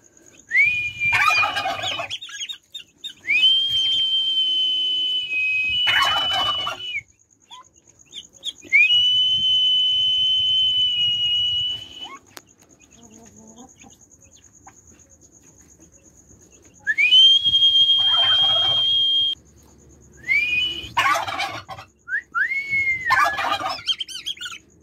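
Turkey poults gobble and cluck in loud repeated bursts, with a steady whistle-like tone running through and pausing between them, close and unaccompanied by talk.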